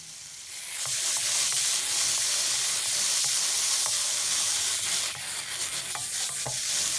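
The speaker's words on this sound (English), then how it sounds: "So fry this a bit. And I'm also now going to add in the frozen vegetables." Onion, shadow beni, celery, seasoning peppers and frozen vegetables frying in a pan for vegetable fried rice, a steady close sizzle with scattered stirring clicks and scrapes throughout, no talking.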